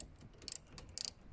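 A socket wrench ratchets while loosening a car battery terminal. Two quick, close bursts of crisp metallic clicking are separated by a short pause.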